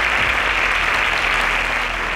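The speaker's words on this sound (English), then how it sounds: "A round of applause for her." A studio audience at a televised quiz competition in Kenya breaks into steady, dense applause for a contestant, a loud uninterrupted wash of clapping with no voices over it.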